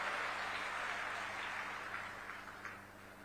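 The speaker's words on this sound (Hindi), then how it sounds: "जोरदार तालियों से स्वागत और अभिनंदन करें" A crowd at a public address in Shikarpura claps to welcome a speaker, a steady wash of applause that holds for a few seconds and then gently fades.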